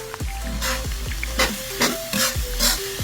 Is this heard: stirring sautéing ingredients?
yes